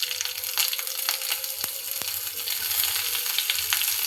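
Onions frying in a pan with curry leaves: a continuous close sizzle flecked with crackles and a few sharp pops, with no talk over it.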